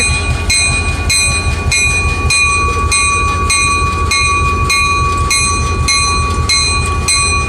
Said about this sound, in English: we're going to watch the trains come back together here as we move 700 out of the way.